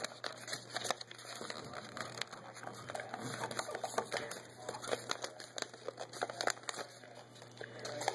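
Sheet of paper folded over and creased by hand, giving a steady run of soft crinkles and crisp rustles close by, with no talking.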